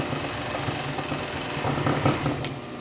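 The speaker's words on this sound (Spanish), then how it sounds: "ya ahí le voy a pasar la fileteadora para que me quede asegurada la costura" An overlock serger stitches along a blouse seam with a fast, steady mechanical whir and a rhythmic clatter, close and continuous with no speech.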